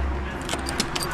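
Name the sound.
keys jangling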